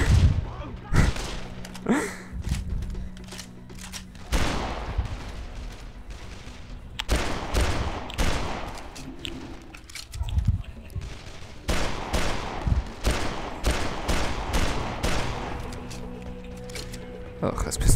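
Rapid pistol gunfire from the zombie video game Dead Island, repeated sharp shots in bursts throughout, loud and close, mixed with game noise and someone talking over it.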